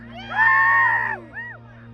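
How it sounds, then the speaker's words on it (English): A ski-trip group shouts a goofy yell together, a loud, close, wavering cry of many voices that rises and falls for about a second, then a shorter, quieter whoop trails after it. "All right, on three, let's hear the goofy yell"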